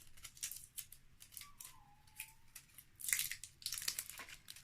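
Plastic and paper packaging of a beauty product being opened by hand, with soft crinkling, tearing and snipping noises coming in irregular bursts, louder toward the end, close to the listener.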